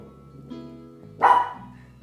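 A dog gives a single short bark midway, fairly close and moderately loud, over a quiet indoor background with a low steady hum.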